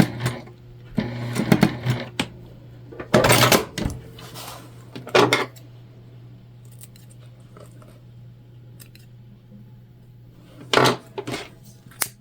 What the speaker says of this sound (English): we'll pop our needle down, stitch, back stitch, and back stitch again